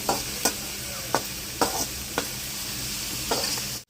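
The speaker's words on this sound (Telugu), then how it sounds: "ఈ పెసరపప్పు మంచిగా అయితే వేగనిచ్చినాక తోటకూర అయితే వేసుకున్నాము" Amaranth leaves and moong dal fry in a pan, a constant close sizzle broken by about six sharp scrapes of a spatula stirring at a loose, uneven pace.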